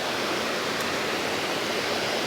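Rushing water pours close to the microphone, a loud, continuous broadband roar like a waterfall or fast stream, steady and unbroken throughout with no voices.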